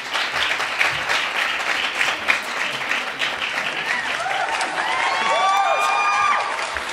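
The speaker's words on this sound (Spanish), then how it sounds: "Por favor, un fuerte aplauso." A studio audience at a live radio event bursts into strong, sustained applause welcoming journalist María Rey, a dense wash of clapping with some cheering before a voice rises toward the end.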